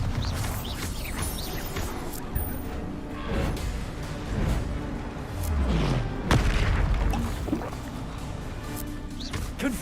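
Bombarda explosive spells cast in Hogwarts Legacy, a series of heavy booming blasts and crashing impacts over roughly ten seconds, with loud thuds and debris-like rumble layered over continuous combat noise.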